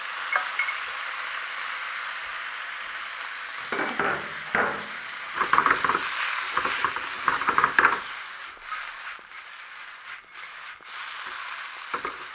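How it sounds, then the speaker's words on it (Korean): Bean sprouts and other vegetables being stir-fried with bacon in a pan sizzle under a steady hiss, with a few bursts of scraping and tossing from a utensil midway. "그 다음에는 준비된 야채를 같이 넣고 한번 볶아보도록 하겠습니다."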